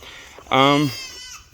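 A goat on a farm gives a single loud, close bleat with a wavering tone, lasting about a third of a second, against quiet outdoor background.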